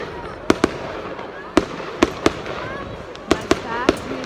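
Fireworks at a Swiss national day celebration with a large bonfire: sharp, separate bangs and crackles pop at irregular intervals against a background of outdoor crowd murmur and voices.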